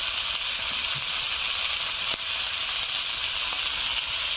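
Sliced onion and slit green chillies sizzle in hot oil for a village-style small fish recipe, a steady loud frying hiss that holds throughout with faint stirring clicks.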